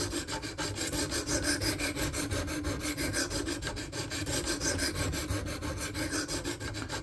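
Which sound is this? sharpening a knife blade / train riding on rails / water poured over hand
sharpening a knife blade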